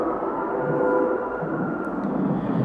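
The Dahlonega Mine Train roller coaster at Six Flags Over Georgia, a 1967 mine-train ride, gives a continuous rumbling roar of cars running on track, fairly close and steady throughout.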